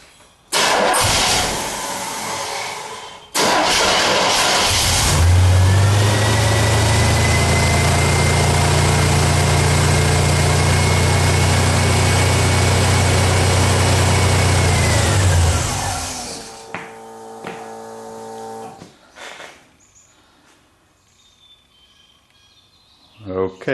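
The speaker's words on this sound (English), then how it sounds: "pump the accelerator a couple times to get the choke to set, and hit the starter and see what happens" A car engine fitted with an electric fuel pump, its accelerator pumped to set the choke, cranks and catches, then runs with a steady, loud rumble for about ten seconds before cutting out. Brief talk comes before it.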